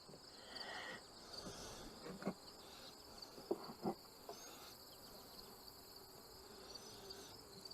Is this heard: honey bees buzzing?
yes